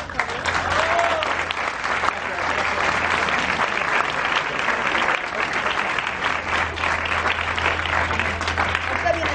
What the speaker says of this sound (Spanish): Un aplauso para Sergio